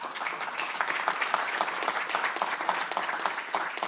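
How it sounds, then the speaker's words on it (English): An audience applauds with steady, dense clapping and distinct individual claps audible throughout, moderately quiet and somewhat distant, with no talking. "Even bigger round of applause for this bit, please"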